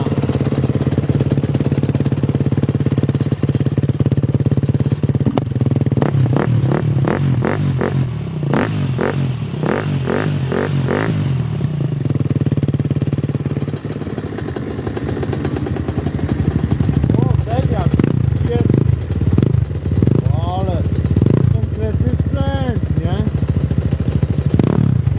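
A cheap used scooter engine runs close by with a steady idle, broken by a quick series of sharp throttle blips, then later rises into longer revs, while voices talk over the motor.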